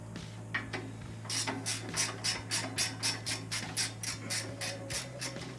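A ratchet spanner loosens a nut on the front suspension of a Nissan N70 truck, giving a steady run of crisp, close clicking strokes in a regular rhythm over a low background hum.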